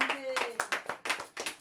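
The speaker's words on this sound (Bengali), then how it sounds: "চলো একবার হাততালি।" A few quick hand claps during a ball-hunting challenge game, brief and close, mixed with people talking over them.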